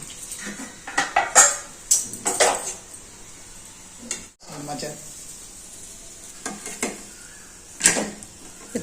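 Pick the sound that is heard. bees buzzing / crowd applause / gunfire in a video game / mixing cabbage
mixing cabbage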